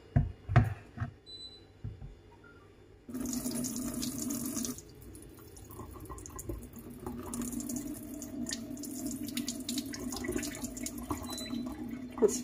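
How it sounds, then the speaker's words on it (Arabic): Running water from a tap rinsing couscous in a sink, a steady splashing flow that swells loudly partway through, with drips and light clatter at the start. "كنغسلو مزيان حتى كيدوز عليه الماء بحال هكا"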